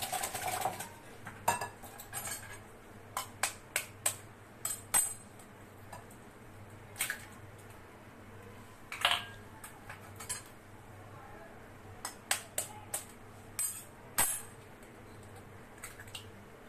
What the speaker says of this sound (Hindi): एक एक करके इसमें ऐड करते जाएंगे और मिक्स करते जाएंगे साथ साथ